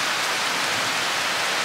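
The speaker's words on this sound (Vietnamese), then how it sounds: "Rồi mưa quá." Heavy rain pours down steadily outdoors, a dense, continuous hiss that stays loud and even throughout, with no voices over it.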